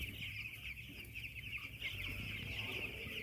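Ten-day-old poultry chicks in a shed, a constant chorus of high, thin peeping from many birds over a low hum, fairly faint and unbroken.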